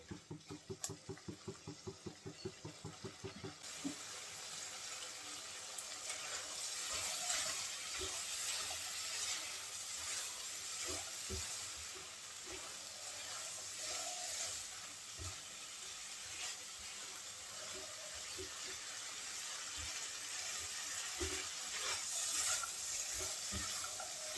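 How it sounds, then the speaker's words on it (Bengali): Bean seeds fry in spices in a pan with a continuous soft sizzle and hiss while a spoon scrapes and stirs at irregular intervals. A brief run of rhythmic ticks comes at the start. "মশলার সাথে শিমের বিচি ভালো করে কষিয়ে নিয়েছি"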